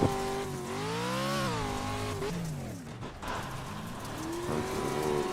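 A short course truck in the iRacing sim revs and shifts, its engine pitch sweeping up and down, with tire squeal and skidding mixed into the loud, continuous racing noise.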